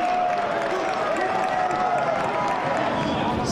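Home supporters at a York9 FC soccer match against AS Blainville cheer and roar steadily after a goal, a dense, continuous crowd noise that fills the stadium throughout.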